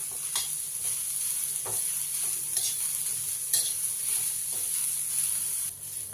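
Chopped onion fries on a tawa for a dubuk vadi curry, a constant close sizzle with gentle stirring strokes and light scrapes every second or so, and no talk.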